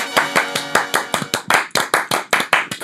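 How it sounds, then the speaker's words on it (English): Steady hand clapping, about fifteen sharp, even claps in under three seconds, close and loud, with no voices over them. "That's some good claps, dude."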